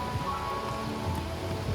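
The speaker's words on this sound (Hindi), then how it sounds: "बाहर बारिश हो रही है" Rain falling outdoors on a sunny day in Jaipur, a steady even patter heard alone at moderate level.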